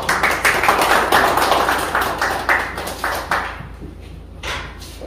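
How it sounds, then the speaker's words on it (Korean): Applause from the audience at a painter's solo exhibition opening in a gallery, a dense, steady patter of many hands that thins out and fades over the last second or so. "박수 한번 주세요."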